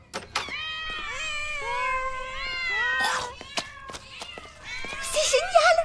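Several cartoon cats meow in a veterinary lab, rising and falling cries overlapping one after another at close range, with a brief voice and rustling near the end.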